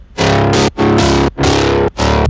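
A heavily processed, distorted midtempo synth bass made in Serum, run through a mastering effects rack, playing four punchy sustained notes with short gaps, loud, bright and compressed.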